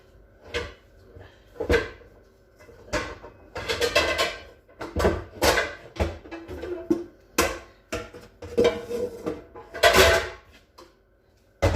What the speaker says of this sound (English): Let me get my frying pan.